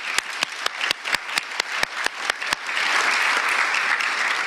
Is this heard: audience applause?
yes